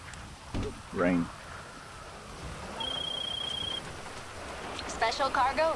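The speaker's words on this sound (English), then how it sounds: "Rain." Rain falls in a video game, a faint steady hiss running beneath brief talking voices, with a thin electronic beep tone partway through.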